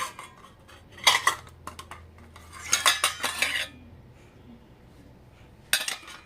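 Steel plates clink and clatter as they are handled in a home kitchen, several bursts of ringing metallic knocks separated by quiet pauses, close and fairly loud.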